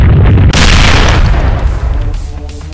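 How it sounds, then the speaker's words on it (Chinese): A missile explosion sound effect: a loud, heavy boom with a sharp broadband blast that rolls into a long rumbling decay over a few seconds, heard alone with no voices. "是导弹爆炸了吗？"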